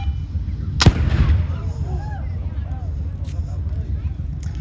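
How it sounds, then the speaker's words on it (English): A tank gun fires one sharp, loud blast at a Canadian tank museum, followed by a rumbling decay over a constant low engine drone, with commands spoken around the shot. "Gunner, prepare to fire. Fire, fire, fire."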